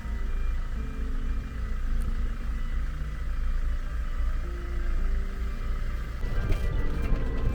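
A vehicle scanner at a Moroccan port moves along a queue of cars, giving a loud, steady mechanical rumble and drone that continues throughout, with a rattling burst near the end.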